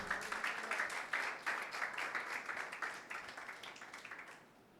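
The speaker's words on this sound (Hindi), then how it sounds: "यीशु मसीह के लिए जोरदार तालियां बजाएं।" Church congregation claps together during a Sunday service, a sustained patter of many hands filling the room at moderate level and fading out near the end, with no voices over it.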